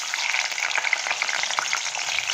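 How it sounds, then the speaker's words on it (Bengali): Salted shrimp frying in a pan make a steady, dense, close sizzle with soft crackles throughout and no talk. "এবার চিংড়িটাকে ভেজে নেব।"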